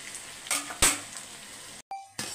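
Ingredients roast gently in an uncovered pan over low heat, giving a soft, quiet sizzle with a few brief scraping stir sounds and a short gap near the end, no voices present.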